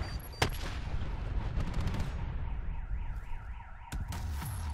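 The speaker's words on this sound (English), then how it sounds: "Why do I hear a car alarm in the game?" A car alarm wails inside the Black Ops 4 video game, its rising and falling siren tone cycling steadily in the background amid loud bursts of gunfire and explosions from a Search and Destroy match.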